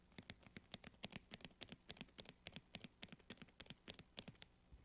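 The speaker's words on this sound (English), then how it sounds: "you're gonna listen to the fader clicks" A DJ mixer crossfader clicks quickly and quietly in a swung transform scratch, with uneven long-short spacing between dense, close clicks. No voices are heard.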